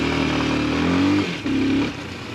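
Bashon Brozz Recon Chinese motorcycle ridden hard, its engine revving loud and close in two rising pulls with a gear change between, ending in a lower throttle drone.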